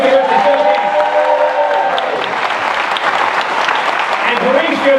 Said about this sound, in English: So one more time, applause for these guys.